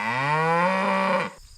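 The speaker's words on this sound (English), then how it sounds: "there are a bunch of cows down here" A single long, loud cow moo from a herd of cattle in a farm pasture, rising and sustained for over a second before cutting off into quiet.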